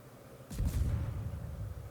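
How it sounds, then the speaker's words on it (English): A heavy, muffled boom swells and rumbles on as a destroyer fires torpedoes in the naval video game World of Warships, with a brief hiss at its start and no talking. "Torpedoes away"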